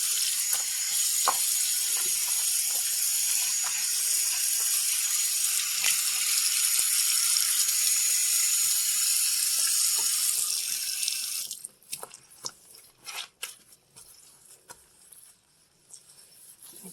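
Tap water runs steadily into a sink for about eleven seconds as a loud broadband hiss, then shuts off, leaving faint clinks and small household noises.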